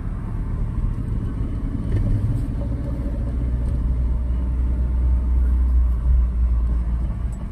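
A car driven in second gear at about 20: a steady, loud low engine and road rumble heard from inside the cabin, with no talk.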